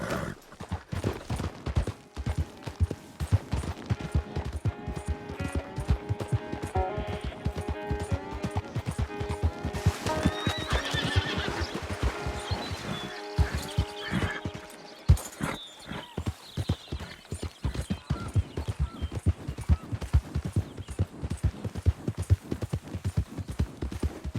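A horse in Red Dead Redemption 2 clip-clops at a steady gallop, hooves pounding in a fast, continuous rhythm with a whinny partway through, close and loud, with a faint voice briefly heard.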